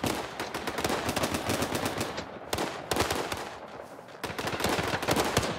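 Sustained machine gun fire in the video game Day Of Wars, dense rapid bursts rattling loudly and continuously with two brief pauses, close and alone without talk.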